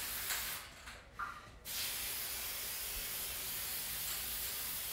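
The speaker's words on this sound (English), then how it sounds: "I could take my white spray paint and just kind of like go over it." White spray paint hisses from a can during a live art demo, with a couple of short bursts and then a long, continuous spray close to the microphone.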